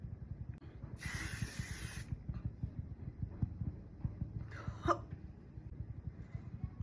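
A single short hiss of makeup setting spray mist bursts out for about a second against a steady low rumbling background.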